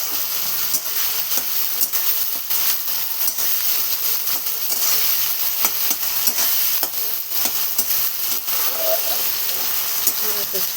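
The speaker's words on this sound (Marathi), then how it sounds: "आपला कांदा टमाटर असं टाकून घेतलेली आहे आणि मस्त आपण परतून घेऊया." Chopped onion and tomato sauté in a pan for fenugreek greens, a continuous loud sizzle with frequent scraping stirs and soft clinks throughout, with no voices.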